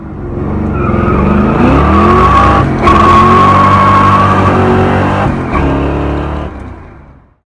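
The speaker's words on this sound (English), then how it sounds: "The car is a 1964 Chevrolet Corvette coupe." A supercharged 1964 Chevrolet Corvette coupe engine revs loud and close, its roar rising and falling with throttle blips and a brief dip before fading out near the end.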